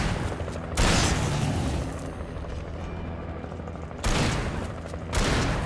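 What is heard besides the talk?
shotgun gunfire in the video game Alan Wake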